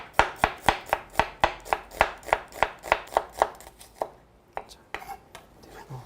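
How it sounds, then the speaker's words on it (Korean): An electric chopper works through onion and vegetables for a Korean home-cooked lasagna and Greek salad, making a rapid, even run of crisp chopping thuds up close that then slows into a few scattered hits. "저는 편의를 위해서 오늘 이렇게 전기다지기를 사용했는데요"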